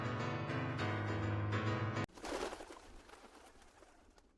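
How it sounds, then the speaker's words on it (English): A dove-like bird from the video game Bird Up coos in a steady, tonal call for about two seconds, then stops abruptly into a fading background rumble. "Bird noises."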